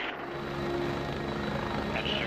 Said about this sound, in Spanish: Este padre quiso ahorrarse la visita al dentista y no tuvo mejor idea que utilizar un helicóptero